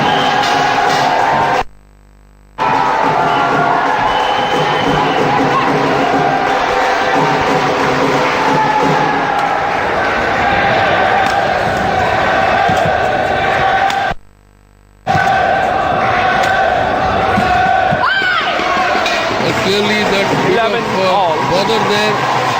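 Enthusiastic Korean supporters cheer throughout an Uber Cup 2014 badminton women's singles semi-final. The steady, loud crowd roar continues under commentary, broken by two brief silent gaps.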